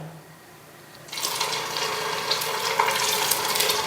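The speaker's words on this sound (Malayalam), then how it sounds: "ഇതിലേക്ക് പുഴുങ്ങി വെച്ച രണ്ട് മുട്ട ഇട്ട് കൊടുക്കാം" Two boiled eggs dropped into hot coconut oil in a pan start a sudden sizzle after a quiet moment, and the sizzle then crackles on steadily and close.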